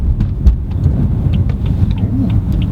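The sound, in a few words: BMW M4 engine rev-matching on downshift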